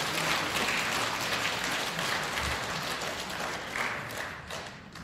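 Worshippers at a Catholic shrine service in Korea clap together in a dense, continuous round of applause, with a few dull thumps mixed in as it slowly fades.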